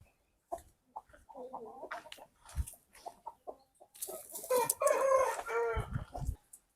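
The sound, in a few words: large 7 kg rooster crowing and clucking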